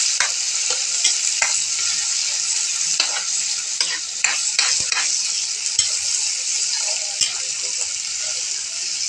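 Kangkong (water spinach) and tomato sautéing in a hot pan, a steady close sizzle broken by repeated scraping stirs of the spatula throughout.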